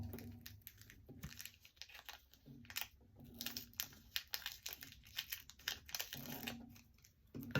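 Scissors trim the top off an index card in a quiet room, giving a faint series of small snipping and crinkling paper sounds in an irregular rhythm.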